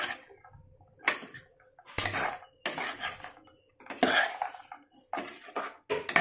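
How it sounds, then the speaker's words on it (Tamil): A spoon repeatedly scrapes and clanks against a metal pot as veg biryani is stirred and mixed, in a rhythm of distinct metallic strokes separated by short pauses, close and with no talking. "எல்லாத்தையும் கலந்து விட்டுக்கலாம்."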